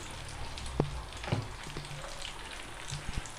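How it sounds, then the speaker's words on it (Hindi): Egg omelette batter fries quietly in a pan, a soft continuous sizzle with a few light taps and crackles scattered throughout. "अब हम इस अंडे को पकाते हैं"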